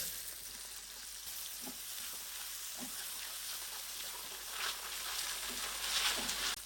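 Onions frying in half a cup of soybean oil for a home-style chicken curry, giving a steady broad sizzle that swells slightly louder toward the end, with faint scattered pops and no talk.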